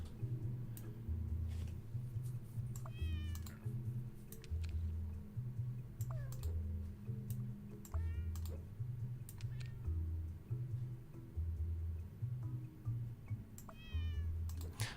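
Cats meow repeatedly over a looping, bouncy game melody in the puzzle game Catris, the short mews popping up every few seconds above the steady music.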